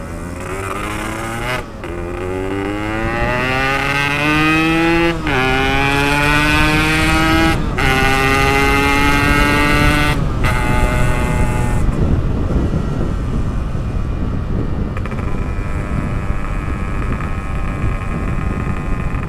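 A Yamaha RX King motorcycle with a PK3 exhaust rides fast past the Presidential Palace, its loud two-stroke engine screaming up through the revs in repeated surges, each broken by a brief gear change.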